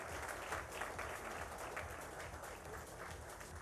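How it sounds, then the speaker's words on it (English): An education awards ceremony crowd applauds the winners, a faint, continuous wash of many hands clapping with a low rumble underneath, holding steady throughout. "Let's give them a big round of applause"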